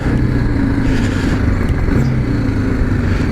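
A 2018 BMW G 310 GS trail motorcycle engine idles and rumbles steadily up close, a continuous loud drone with some mechanical clatter.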